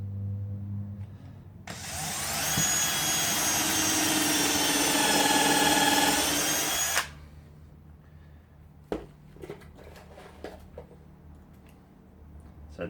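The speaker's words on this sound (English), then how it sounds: "Now let's put a screw into here, into the corners." A power drill drives screws into the corners of a beer crate built from old pallet wood, one loud steady whine of several seconds followed by faint clicks and knocks nearby.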